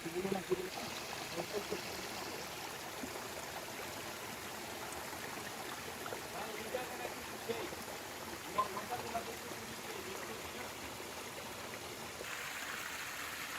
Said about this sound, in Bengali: দেখেন এখানে ঝর্ণার পানি নামতেছে